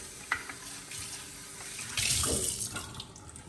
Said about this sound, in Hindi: बॉटल्स को ज़रा पानी से खंगाल लें